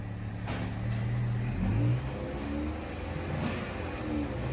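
A chocked car engine being checked for blue exhaust smoke idles and revs gently under light throttle, a low steady rumble swelling briefly before settling back, heard from close by.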